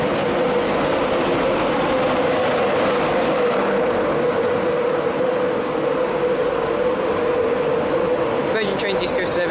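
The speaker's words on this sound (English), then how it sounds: "Virgin Trains East Coast service to Newcastle." A Virgin Trains East Coast service to Newcastle runs through Doncaster station with a steady loud rumble and a droning engine tone, and a voice speaks over the train noise.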